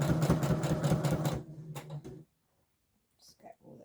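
A sewing machine runs a straight stitch along bias binding, a fast close rhythmic whirring clatter for about two seconds that then stops, with a few quiet rustles and faint speech afterward.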